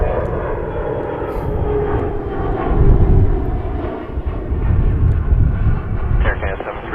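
An airliner's engines roar steadily at Toronto Pearson Airport, building and swelling as the aircraft departs, with radio chatter heard over the rumble.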